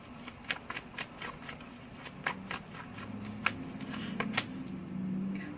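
Tarot cards being shuffled and drawn from a deck, a run of crisp riffling flicks and light card snaps close up, with no speech.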